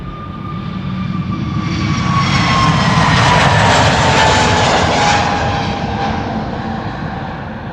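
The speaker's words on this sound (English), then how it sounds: "A321 Neo" An Airbus A321neo jet, British Airways flight to London Heathrow, passes overhead at Schiphol Airport with a loud, steady engine roar that swells to a peak and slowly fades, including a descending whine.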